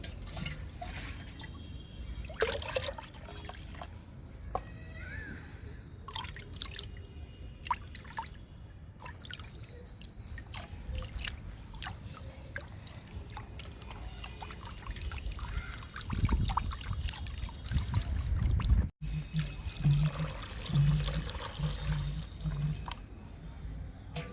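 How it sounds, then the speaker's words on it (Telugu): Liquid plant fertilizer made from groundnut cake, tea powder and egg powder is poured into small and larger buckets, heard as intermittent close trickles and splashes, with a louder pour near the end. "చిన్న బకెట్లలో రెండు మొగ్గులు పోసాను కొంచెం పెద్ద సైజు బకెట్లలో మూడు మొగ్గులు పోసాను"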